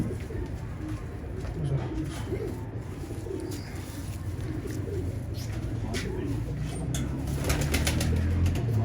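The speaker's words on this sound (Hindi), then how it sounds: "ये एक तीसरा कबूतर है जी। ये भी जुरा कबूतर।" Several Jurry-breed pigeons coo in a loft, their low, repeated throaty calls steady and close throughout, with faint wing flutters and muffled background murmur.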